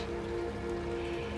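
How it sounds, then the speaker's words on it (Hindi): Steady rain falls on a surface in natural outdoor surroundings, a continuous soft hiss of drops that holds evenly throughout with no voices. "बारिश"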